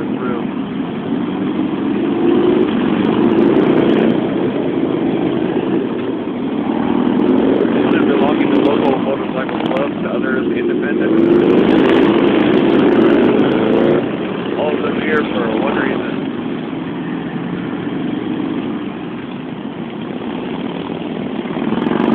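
Motorcycles in a funeral procession for a Marine captain in Bellingham rumble past in a steady, dense stream of engine drone, rising and falling as groups pass, with people talking nearby.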